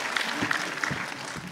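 Audience applause at a Liverpool Comic Con panel with Josh Dallas, a brief burst of crowd clapping, slightly distant and fading.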